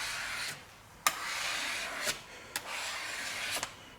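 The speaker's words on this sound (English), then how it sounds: "we're trying to scrape it off the surface" Scraping glue and leftover PEI off a spring steel sheet, a steady raspy rubbing broken by four or five sharp scratchy strokes, close and alone.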